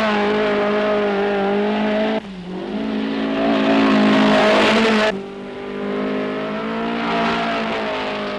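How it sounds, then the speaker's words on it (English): Mitsubishi Lancer rally cars race flat-out on closed forestry roads at the 1973 Southern Cross International Rally. Engines howl at high revs, with sharp gear changes and rising and falling pitch as the cars pass. "The Lancers are going like rockets."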